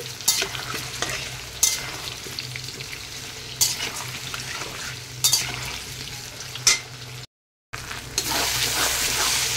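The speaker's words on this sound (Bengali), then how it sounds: "আর এখানে প্রথমেই আমি আলুগুলোকে একটু ভেজে নিচ্ছি।" Potatoes frying in hot oil while being stirred, a steady loud sizzle broken by repeated sharp scrapes of the spatula against the pan, with one brief dropout of silence near the end.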